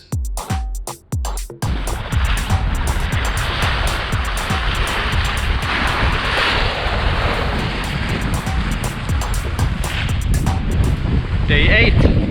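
A sailboat motor sailing under mizzen and jib at about 4.5 to 5 knots, giving a steady loud rush of wind, water and engine drone that runs throughout after a few sharp knocks at the start.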